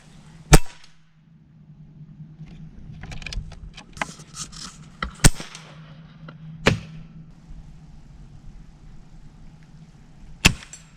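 Pellets from an Air Venturi Avenger .22 PCP air rifle strike a steel target in sharp, isolated metallic cracks, four or five spaced seconds apart, loud against a quiet outdoor background with a low steady hum.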